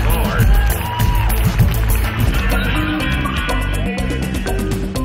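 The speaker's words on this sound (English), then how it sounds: "Let's give Drew a big round of applause, guys." A rodeo audience applauds a young rider. The dense clapping and crowd noise blend with an announcer talking over the arena.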